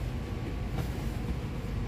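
Low rumble of the Cikuray passenger train rolling into Cibatu station, a steady muffled drone heard from inside a carriage, fairly faint and without talk.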